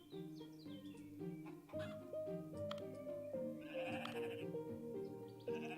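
Sheep in the nature game Equilinox bleat repeatedly, several overlapping calls layered over gentle melodic game music, with a brief chirpy bird-like sound near the end.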